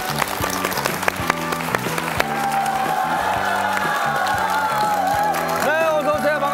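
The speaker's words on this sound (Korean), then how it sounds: "큰 박수로 맞으시기 바랍니다" Studio audience applause and cheering welcoming a guest on a Korean TV talk show swell over music playing in the background, steady and full throughout.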